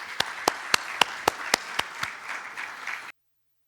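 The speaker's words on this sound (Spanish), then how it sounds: "Recibámoslo con un cordial aplauso." Hall audience clapping to welcome a speaker from the national health institute in Peru: a run of crisp, evenly spaced claps rides over a softer bed of scattered applause, then everything cuts off abruptly.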